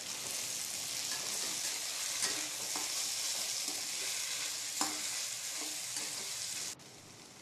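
Egg noodles with soy sauce being stirred in a hot pan, with a steady loud sizzle and scattered scraping stirs of a utensil; the sizzle drops away sharply near the end.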